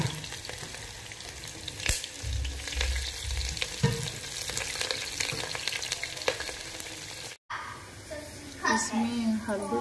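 Onions fry in hot oil for a chickpea and pea chole, giving a steady, dense sizzle with stirring scrapes. Voices murmur faintly underneath, and there is a brief cut near the end.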